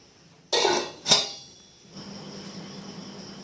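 A metal lid goes onto a pot of two raw mangoes boiling in water. There are two sharp clanks close by, then a low, steady simmering hiss continues.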